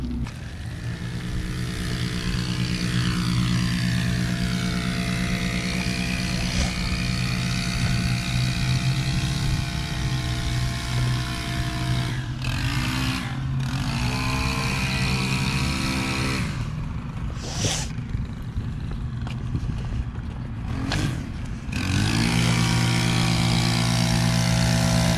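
A string trimmer runs continuously while someone weeds, a steady loud motor whine with a few brief dips in pitch and load as the line cuts, carrying through the whole stretch with no talk.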